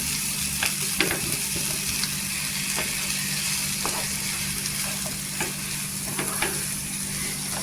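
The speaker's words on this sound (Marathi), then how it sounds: "इथे जे बोंबील आहेत ते फ्राय करून घेतलेलं पहा. इथे कसा आवाज येतो, एकदम क्रिस्पी केलेला आहे." Bombil (Bombay duck) fish frying crisply in a pan, a steady, dense sizzle with scattered crackles and pops throughout, close and continuous with no talk.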